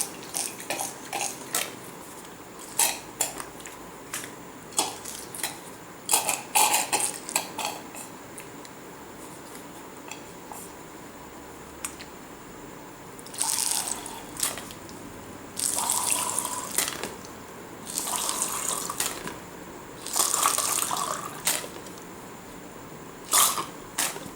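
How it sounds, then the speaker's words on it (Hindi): Water splashing and stirring in a container as it is mixed with chalk, with scattered clinks of a spoon or utensil against the sides and bursts of pouring. "अब हम इसमें पानी भी मिला देते हैं"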